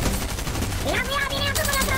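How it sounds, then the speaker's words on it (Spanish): Rapid bursts of automatic gunfire while shooting at enemies in the Fortnite Battle Royale video game, dense overlapping shots, loud and close, with a player's voice talking over them. "desde arriba les disparamos"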